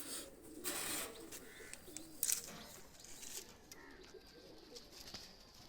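A male Pakistani high-flyer pigeon coos softly a few times, with light fluttering and rustles nearby in a quiet setting.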